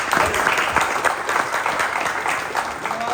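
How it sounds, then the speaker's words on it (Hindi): Theatre audience clapping during a Hindi comedy stage play, a dense, even round of applause filling the hall for several seconds without pause. "तालियां"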